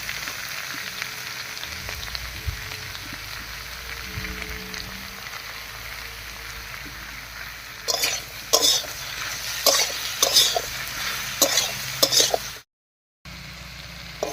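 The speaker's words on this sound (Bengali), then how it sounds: "এই অবস্থায় সবজিগুলোকে বেশ একটু ভাজা ভাজা মতো করে নেব" Vegetables and eggplant stir-frying in a pan with salt and turmeric: a soft, continuous sizzle, then a series of rhythmic scraping stir strokes near the end, heard alone without talk.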